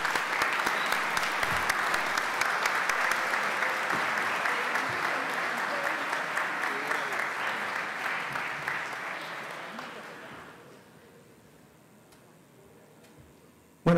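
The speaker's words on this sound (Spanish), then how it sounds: "Aplausos para Grisel González." Sustained applause from an audience at an academic conference honouring a researcher, a dense, steady patter of many hands that holds strong for about ten seconds before thinning out and fading to a quiet room.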